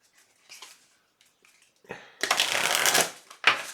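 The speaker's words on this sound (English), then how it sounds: "Let me get this deck shuffled." A deck of tarot cards is shuffled by hand: a few soft handling taps, then a close, crisp riffling burst and a final sharp snap of cards.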